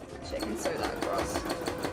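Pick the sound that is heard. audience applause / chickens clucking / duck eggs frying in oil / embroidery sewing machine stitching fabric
embroidery sewing machine stitching fabric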